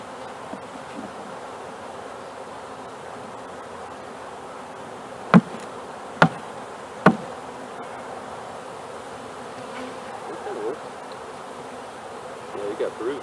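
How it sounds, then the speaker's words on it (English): A swarm of honey bees hums continuously as comb is handled, the dense buzzing steady throughout, broken by three sharp knocks in quick succession where the bees are shaken off. "So I knocked off the bees by doing it that way"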